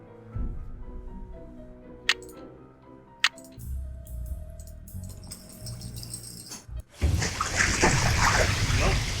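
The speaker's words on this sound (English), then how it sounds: "Nope, that's water." Water splashing in a well in the Nancy Drew: Ghost Dogs video game, a broad rushing splash that begins late and follows metallic clicks and rattles.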